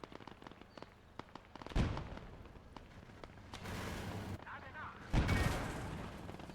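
Video game machine-gun suppressing fire in Gates of Hell: Ostfront, with a few sharp distant shots, then two heavy blasts and a sustained burst of rattling fire, all fairly faint.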